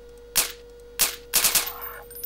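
A pistol from a Half-Life weapon addon fires in Garry's Mod, giving three sharp, loud gunshots, the last two in a quick double burst, with no talking.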